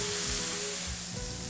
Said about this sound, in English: The sound of sizzling mushrooms in a pan is called the applause.